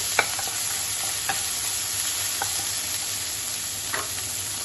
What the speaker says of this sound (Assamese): গাজ টেঙাখিনি ভালকৈ ভাজি ল'ব